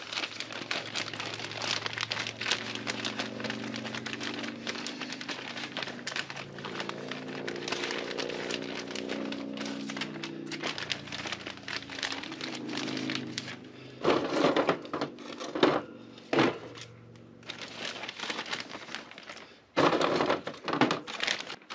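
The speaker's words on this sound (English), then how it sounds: "now I'm going to put a little soil in the bottom of the bag" Damp soil is tipped into the bottom of a bag while grape cuttings are gathered for propagation, giving close crinkling and rustling of the bag, busiest in a cluster of bursts toward the end.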